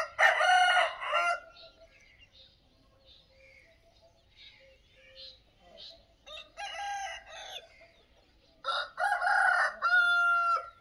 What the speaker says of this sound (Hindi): ये हमारे मुर्गे हैं, बड़े असील मुर्गे, पूरे देसी मुर्गे